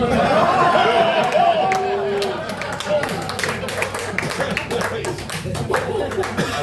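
Comedy club audience at a stand-up show clapping, with scattered laughter and crowd chatter mixed into a busy, close, continuous patter of hands.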